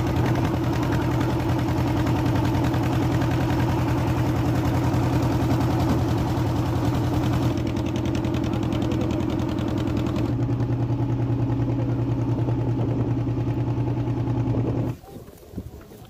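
A boat engine chugs in a steady, loud, mid-pitched drone during a river crossing from Patipunia ghat to Mousuni island, running unchanged for most of the span before cutting off abruptly near the end.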